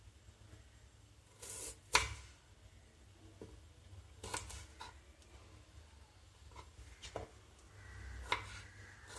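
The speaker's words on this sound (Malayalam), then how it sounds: "നമുക്ക് സവാള കട്ട് ചെയ്തെടുക്കാം." A knife slicing an onion lengthwise into thin strips on a cutting board, a few sharp separate chops spread over a quiet stretch, fairly close.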